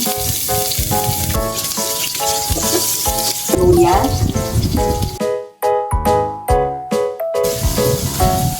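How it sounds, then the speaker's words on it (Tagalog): Garlic and ginger sizzle and spatter loudly in a hot pan as they are sautéed for a Filipino bangus and pork dish, with stirring scrapes and brief bursts of crackling over a steady frying hiss. "igisa na natin ang bawang at luya"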